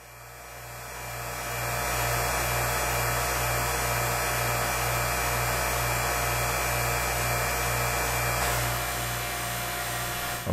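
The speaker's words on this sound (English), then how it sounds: "what's happening here right now is I'm letting the air back into the vacuum chamber so I can get the lid off" Air hisses steadily back into a vacuum chamber, building over the first two seconds into a loud, even rush over a low electrical hum, then easing slightly near the end.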